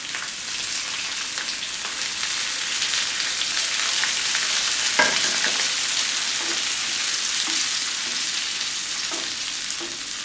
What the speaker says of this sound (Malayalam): നമ്മളിതിലേക്ക് ഫ്ലെയിം കുറച്ച് വെച്ചിട്ട് മോരൊഴിച്ച് കൊടുക്കണം കേട്ടോ